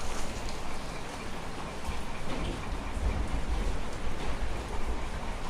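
Steady rain falling outdoors, a dense, continuous roar of drops with a low rumbling undertone, constant in level and fairly loud, with no voices.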